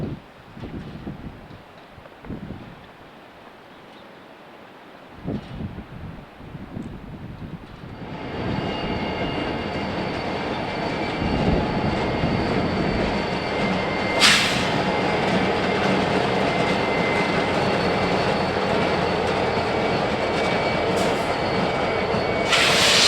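Freight transfer train to the IHB, hauled by two rebuilt SD40-3 diesel locomotives near Barr Yard on the B&OCT: faint at first, the rumble and wheel noise swell as the train draws close, then a steady heavy roll of cars with occasional squeals.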